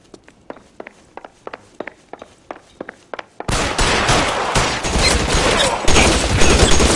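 A shootout in the video game L.A. Noire: quick footsteps run for a few seconds, then dense, loud gunfire breaks out and keeps going.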